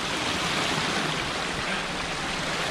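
A high, swollen stream rushes past, a loud, close and unbroken roar of running water with no voices.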